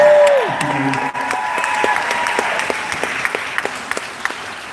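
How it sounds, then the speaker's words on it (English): Audience applause at a live local community event, a dense steady clapping crowd that gradually thins into scattered individual claps, following a brief tone at the start. "Clap your hands."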